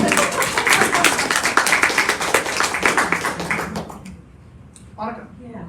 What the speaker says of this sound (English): Can we clap now?